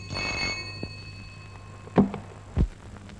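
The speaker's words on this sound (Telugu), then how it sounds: "వచ్చి ఫోన్ తీయచ్చు కదా" A telephone bell rings briefly at the start, followed by two sharp knocks. The rest is a quiet background.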